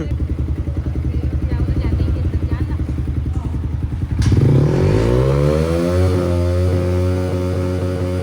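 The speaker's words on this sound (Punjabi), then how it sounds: "ਆਰਪੀਐਮ ਚੈੱਕ ਕਰਨੇ ਆਂ ਦੀ ਕਿੰਨੀ ਕੁ ਆਵਾਜ਼ ਆਉਂਦੀ" A motorcycle engine revved for an RPM check, starting with a steady rhythmic idle chugging, then a sharp surge at about four seconds into a loud rising and falling rev that settles into a strong, steady high drone, close to the mic.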